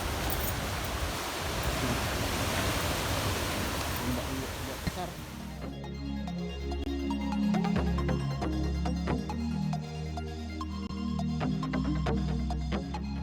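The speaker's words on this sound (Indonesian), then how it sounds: "Tuh, guys, ombaknya, guys." Sea waves breaking at Lhok Ketapang Cut, a loud broad roar of surf for the first five seconds that then gives way to mixed sounds with voices underneath.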